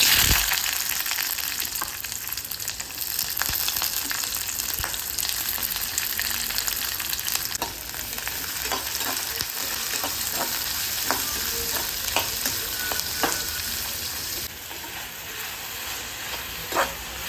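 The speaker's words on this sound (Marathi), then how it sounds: "कढईमध्ये तेल तापायला ठेवले आणि सुरुवातीला मी आता कांदा भाजून घेते" Onion frying in hot oil in a kadhai: a steady, close, loud sizzle throughout, with occasional soft scrapes and clicks of stirring layered over the hiss.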